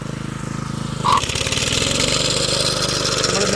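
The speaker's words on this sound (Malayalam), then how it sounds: "premium quality pearl grass cut ചെയ്തുകൊണ്ടിരിക്കുകയാണ്" A motorized cutter chops premium-quality pearl grass at Olakkavu, Mannuthy, with a continuous close engine drone that thickens into a harsher, busier buzz after a moment.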